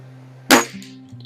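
A Walther LGU air rifle fires a single .177 Barracuda Match pellet: one sharp, close crack that rings out briefly and fades over a steady low hum.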